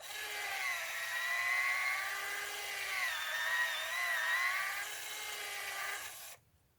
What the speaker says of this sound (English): you just keep running your bit into the hole